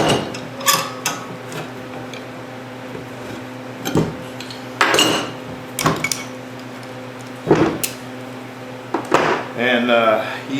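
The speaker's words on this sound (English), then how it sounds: "we're gonna take the clamps off" Metal clamps removed from a hand-made knife handle, a handful of sharp clanks and clicks spaced a second or two apart over a steady background hum, with a voice talking in between.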